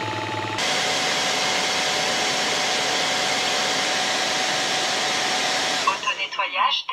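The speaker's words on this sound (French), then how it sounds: "la brosse roulante là maintenant est en train de se nettoyer de toutes les impuretés" Upright cordless vacuum-mop floor washer runs its self-cleaning cycle, the roller brush and motor giving a loud, steady whir that starts abruptly and stops near the end, followed by a brief voice.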